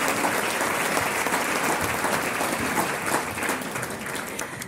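A live audience claps in sustained, dense applause to welcome speaker Sarita Maybin, loud and even throughout, tapering slightly at the end.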